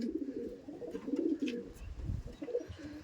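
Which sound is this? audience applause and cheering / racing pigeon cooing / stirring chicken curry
racing pigeon cooing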